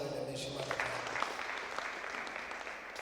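Wedding guests at a ceremony applaud together with a steady, moderately faint patter that holds for a few seconds beneath a voice speaking over it.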